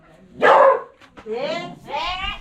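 In a Tai Lue village in northern Laos, a dog lets out a few close barks, a sharp burst followed by two harsher, drawn-out yelps with short pauses between them.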